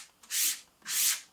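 A sander works over a wooden surface in two even rasping strokes, each a steady, hissing scrape with a short pause between, close and fairly quiet.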